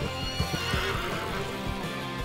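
A horse in Red Dead Redemption 2 gives a loud, close neigh over a few hoof clops, with no talking.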